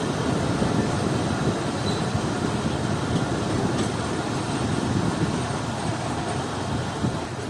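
Passenger train hauled by two GU40 locomotives idling at an outer signal, a steady low rumble and hiss throughout, fairly loud and continuous with no talk.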